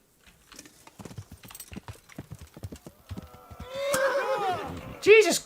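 A horse in the video game Kingdom Come: Deliverance, hooves clip-clopping at first, then a loud rising neigh and a sharp whinny near the end, with a voice speaking over the start.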